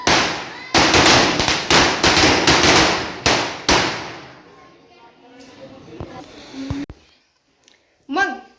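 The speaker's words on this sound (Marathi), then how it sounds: "कसे आपले फटाके नक्की सांगा कमेंट मध्ये आम्ही दोघांनी मिळून वाजवले" A rapid string of sharp, loud Diwali firecracker bangs fires off in quick succession, then fades into quieter crackles and a few voices.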